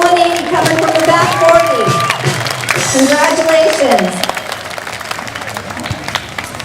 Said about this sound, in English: Can we give that person a round of applause?